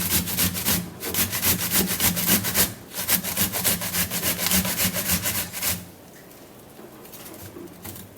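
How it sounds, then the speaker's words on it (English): Cucumber being grated by hand, a rapid, steady back-and-forth rasping with repeated strokes up close for about six seconds, then a quieter, softer scraping to the end. "for the cucumber, I'm going to be grating it, okay, to just get the juice out of it"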